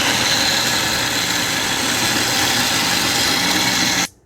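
A blender runs on high speed, blending black-eyed peas into a smooth batter for moin moin. The loud, steady motor roar holds unbroken for about four seconds, then cuts off abruptly.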